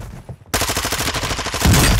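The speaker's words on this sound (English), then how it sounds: "You are taking effective fire." Sustained automatic gunfire in Call of Duty at a construction site, a loud, steady rattle of rapid shots that starts abruptly after a brief near-silent moment and keeps going to the end.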